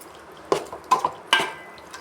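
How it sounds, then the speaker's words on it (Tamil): Chicken frying in oil with onions and tomatoes for a dum biryani is stirred in the pan. Three distinct, close scraping strokes, evenly spaced, sound over a faint background sizzle. "சிக்கன் போட்டதும் நல்லா ஒரு வாட்டி கலந்து விடுங்க."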